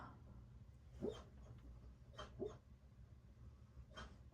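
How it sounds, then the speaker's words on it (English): A few faint dog barks or yips pop out at intervals over a steady low background hum, with no talking. "I don't know if you guys can hear that, but that's my dog."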